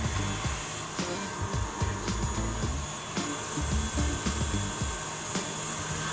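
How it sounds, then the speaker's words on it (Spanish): An electric mixer beats butter and sugar at medium-high speed for a cream cheese recipe, a steady close whirring hum with the beaters knocking and scraping the bowl in irregular taps. "vamos a batir por aproximadamente unos 4 minutos a una velocidad media a alta."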